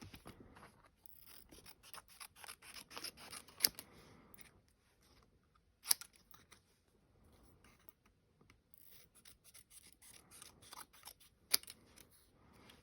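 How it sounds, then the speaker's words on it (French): Paper being cut into small banner strips with scissors, a steady run of crisp snipping and rustling strokes with a few sharper clicks, close by and with no talking. "On va couper en mini bannière"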